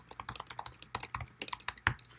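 Rapid typing on a computer keyboard while filling in a form, a close, irregular run of sharp key clicks with brief pauses, no voices.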